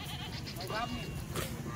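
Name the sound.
Kathiyawadi sheep bleating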